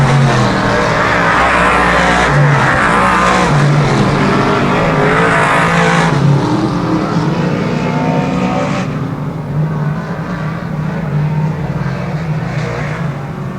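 Big block race cars roar around a dirt oval at the Dirt Track at Genesee, a loud, dense wall of engine noise that swells and fades as the pack rips past through a turn.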